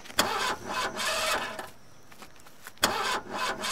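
A car engine cranks in two long bursts separated by a short pause, the starter whirring loudly without the engine catching or running, in a German audio drama scene.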